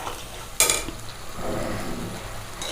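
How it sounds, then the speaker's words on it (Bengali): Bengali-style chana masala frying in oil in a pan while being stirred, with a sharp clink of a utensil against the pan and a steady close sizzle. "একটু ভাজা ভাজা হলেই, কষা হলেই, চানাটা বেশ তেল ছেড়ে যাচ্ছে"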